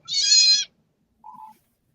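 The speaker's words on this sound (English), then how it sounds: "was that a kitten? Was that a cat or a kitten?" A kitten gives one clear, high meow, then after a short pause a softer, lower second call in an otherwise quiet room.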